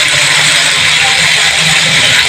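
Cauliflower and potato pieces fry in hot oil as they are stirred, giving a loud, steady broadband sizzle that holds evenly throughout with no pauses.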